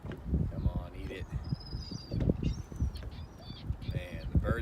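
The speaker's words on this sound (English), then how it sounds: "Man, the birds are getting fired up." Birds call and squawk in short, scattered bursts around a spring lake during a bass fishing outing from an anchored boat, mixed with knocks and a voice speaking nearby.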